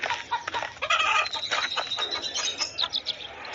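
Cartoon chickens cluck and squawk in a busy flock, several overlapping bird calls with a brief burst of flapping wings, fairly close and lively.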